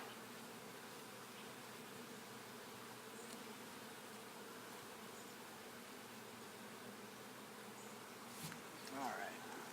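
Honeybees buzz steadily around an open beehive during a frame inspection, a dense continuous hum close by, with a brief louder buzz of a bee passing near the end.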